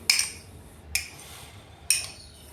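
Three sharp metal-on-metal clinks spaced about a second apart as a tablespoon of ketchup is spooned into a cheese sandwich filling in a bowl, close and fairly quiet over a low background hum.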